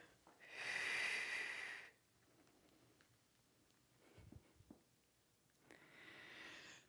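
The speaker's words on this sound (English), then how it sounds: "you hear how shaky my breathing is?" Shaky, effortful breathing during a mat Pilates teaser exercise: a long, close exhale, then quiet, faint movement sounds, and another breath starting at the end.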